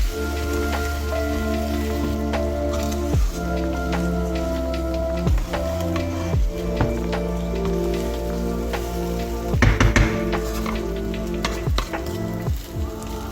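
Semolina and vegetables sizzle in a hot pan with a steady crackling hiss. A spoon stirs and scrapes now and then, giving sharp clacks that cut through the frying noise.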